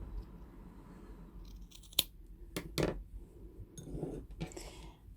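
Scissors snipping through felt for a needle-felted succulent, a few sharp separate cuts with rustling in between, close and quiet, no talking.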